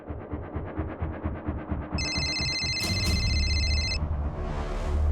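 A telephone rings on an outgoing call in a crime drama scene, a bright electronic ringtone burst chiming over a rhythmic ticking pulse, then a low steady tone as the ring sounds again.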